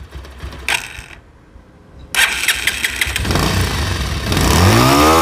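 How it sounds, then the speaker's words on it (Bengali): A Bajaj Pulsar motorcycle with a newly installed gearbox is started after a pause, then its engine runs and revs up loud and close, the tone climbing toward the end. "তো এখন আপনারা ইঞ্জিনের সাউন্ডটা শুনুন।"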